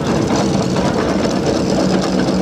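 An old engine runs steadily at a rally field in the UK, giving a loud, continuous low rumble with a rapid, even chugging beat and no pauses.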